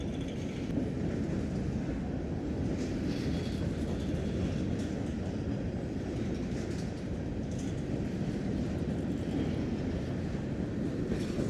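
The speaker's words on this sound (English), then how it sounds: "Train's about almost 800 axles in length." A long freight train of nearly 800 axles passes near Crofton, Kentucky, a steady loud rumble with faint rail clatter that carries on unbroken.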